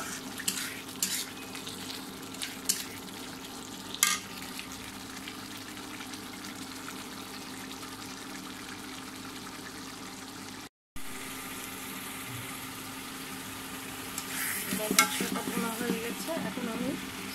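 Shing fish frying in a pan with squash being cooked, a soft continuous sizzle with occasional scraping stirs and clinks, faint and steady throughout with a brief gap midway.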